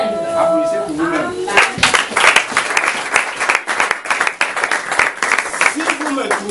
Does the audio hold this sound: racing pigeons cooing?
no